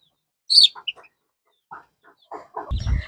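Country chickens in a net-covered poultry coop give a few scattered, close clucks and chirps separated by quiet gaps, ending in a louder flurry of clucking.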